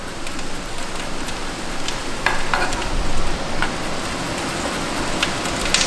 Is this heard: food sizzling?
yes